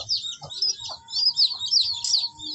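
High, repeated cheeping from young chicks on a poultry farm during vaccination, with a steady chorus of peeps and some lower clucking underneath.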